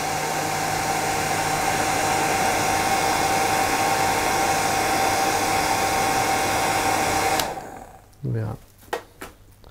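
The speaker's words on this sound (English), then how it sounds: "I'm going to use the hairdryer" Hair dryer blowing air over CDC fly-tying fibres for a small emerger midge, a loud steady whooshing drone for about seven seconds that cuts off abruptly, followed by brief handling noises.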